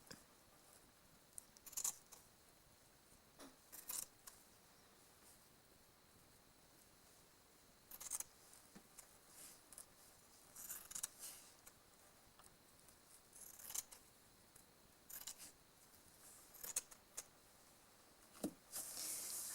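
Scissors make several sharp, quiet snips at irregular intervals while cutting a strip of material with fibres attached for homemade static grass, with soft handling rustles between the cuts.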